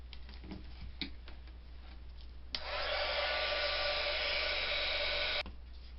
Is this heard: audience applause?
no